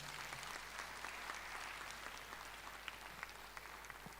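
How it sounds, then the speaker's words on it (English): A crowd applauds steadily, a dense patter of many hands clapping at an even level with no voices on top. "Please, one more round of applause for my panelists."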